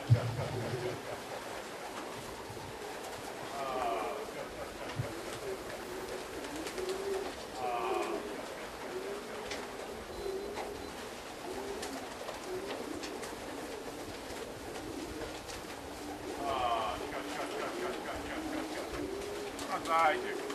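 Racing pigeons arriving at a loft in Żary give soft, repeated cooing calls at moderate distance over a steady outdoor background, with people talking quietly nearby.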